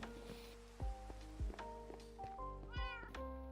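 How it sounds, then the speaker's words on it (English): A cat meows a few times amid the sounds of a Minecraft world, with steady rain pattering on surfaces and a couple of dull thumps, all fairly quiet. "the cat meowed"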